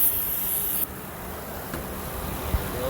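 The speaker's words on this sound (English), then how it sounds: "get some brake cleaner, spray it all off" Brake cleaner sprayed over a Honda Odyssey engine bay after a power steering pressure hose change, a steady close hiss of aerosol that briefly dips, then carries on under faint clatter.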